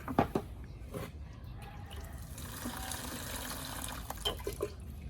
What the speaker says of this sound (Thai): ค่อยๆเทน้ำ ลงไปเรื่อยๆครับอย่าให้มันถึงกับ แฉะมากนะ